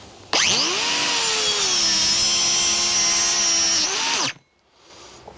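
DeWalt DCS438 brushless 3-inch cut-off tool with a multi-purpose diamond wheel slicing through hydraulic hose: a loud, close, high whining grind that holds steady for about four seconds, then spins down and stops.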